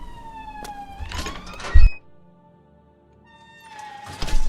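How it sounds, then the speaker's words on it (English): A wailing ambulance siren outside rises and falls, fades to near silence, then returns loudly, with a single heavy thunk before the quiet gap. "I really hate the ambulances."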